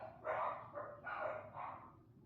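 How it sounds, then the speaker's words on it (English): Dogs bark four times in a quick, uneven series, sounding faint and somewhat distant indoors. "Those are my dogs"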